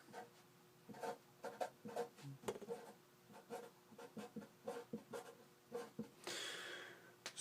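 A pen scratches out the names of atmosphere layers on a list, in short close strokes and bursts with brief pauses between words, ending in a longer rubbing scrawl.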